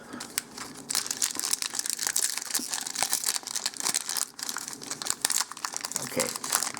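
Crinkly plastic wrapper of a Prophecy trading card pack being torn and crumpled open, a steady close-up crackling and rustling that runs unbroken for several seconds.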